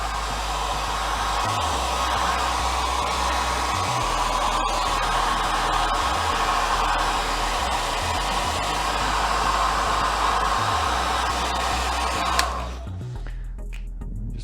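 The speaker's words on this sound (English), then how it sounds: "and then you just heat gun hairdryer it" A heat gun or hairdryer heating glued model parts, a steady loud whooshing blast that runs for about twelve seconds and then cuts off abruptly, leaving a quiet room.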